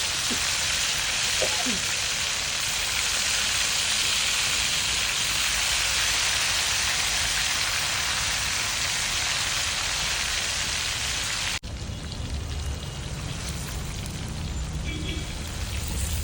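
Masala-coated soybeans frying in hot coconut oil, a dense, steady sizzle like heavy rain that holds close and loud throughout, shifting slightly in tone near the end.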